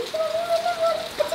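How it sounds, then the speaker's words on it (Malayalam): Steady rain falling outdoors, a broad even hiss without voices, with a thin whistling bird-like tone running through it. "ഇവിടെ നല്ല മഴ കേട്ടോ"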